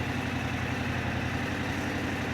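A 2022 Yamaha R7 motorcycle, just refilled with Amsoil 10W-40 oil, idles smoothly with an even, fairly quiet hum that holds steady throughout.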